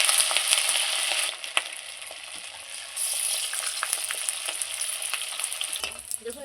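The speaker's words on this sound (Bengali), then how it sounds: "তেলটা খুব সুন্দর গরম হয়ে গেছে, এইবার আমি পকোড়াগুলো ছেড়ে দেবো এক এক করে।" Ash gourd pakoras fry in hot mustard oil, a steady loud sizzle with crackling bubbles, broken by a few sharp clinks and stirring scrapes as pieces are added and moved.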